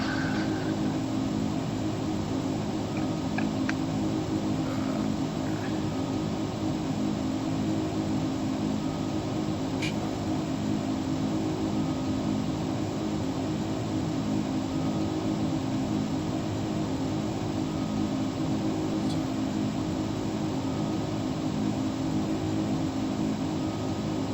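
Steady, loud aircraft engine drone from the outside view in Microsoft Flight Simulator X, an unbroken hum and rush with a few faint clicks over it, no speech.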